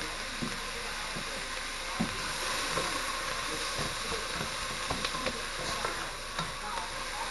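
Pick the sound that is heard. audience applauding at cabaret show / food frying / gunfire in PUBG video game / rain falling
food frying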